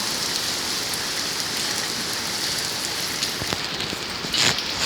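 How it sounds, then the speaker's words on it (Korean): Hail pelting down outdoors in a steady, dense patter that stays loud throughout, with a few sharper impacts standing out near the end. "자 소리 들리십니까 여러분 우박입니다"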